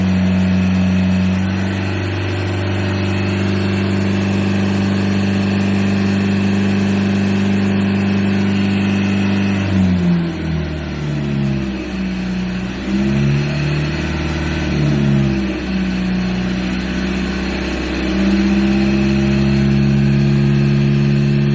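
A Ford Ranger engine, fitted with an aftermarket power chip, revs steadily up toward 3,000 RPM, a loud sustained drone that rises in pitch, then wavers and settles, heard alone without talk.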